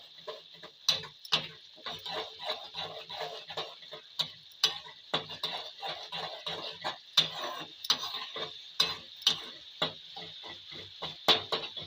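Small fish chorchori with Kashmiri red chili powder is stirred in a pan. Sharp, repeated spatula clicks and scrapes come at an uneven pace over a faint sizzle, close by, with no speech.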